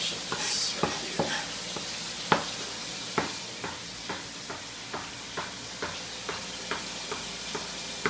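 Chicken sautéing in a pan, a continuous close sizzle broken by regular clicking taps about twice a second, like a utensil knocking against the pan, with no talking.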